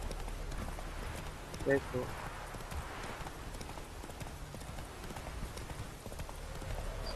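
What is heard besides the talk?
horse hooves galloping in video game The Witcher III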